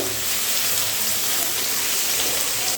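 Carrot, onion, capsicum, tomato and chopped green chilli sizzling in a pan for homemade pasta, a dense, steady hiss that continues unbroken from start to finish, with no voices.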